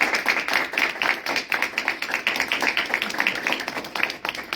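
Loud applause from an audience closing a panel discussion with three panelists on Central American justice operators in exile, dense steady clapping throughout with no talk over it.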